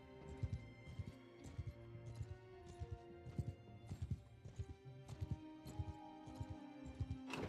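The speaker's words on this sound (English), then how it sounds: "I hear some horses here." Steady hoof clip-clops from horses in a medieval strategy video game, repeating in a loose trotting rhythm over a background of game music, fairly close.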